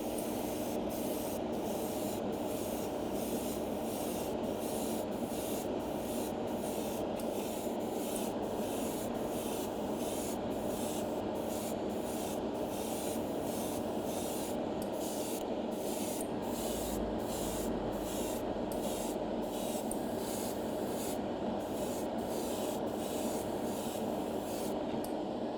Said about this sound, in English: So there's just a few light sprays